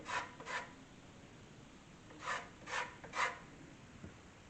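Lemon scraped on a zester while making rosemary shrimp skewers, heard as a few short, faint raspy strokes in two small groups, close and without talking.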